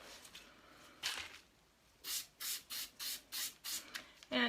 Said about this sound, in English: this one didn't get the spray on it, so I'm going to spray it